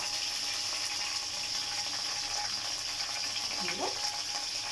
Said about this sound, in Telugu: ఇందులోకి కరివేపాకు జీలకర్ర వేసి తాలింపు పెట్టేస్తున్నానండి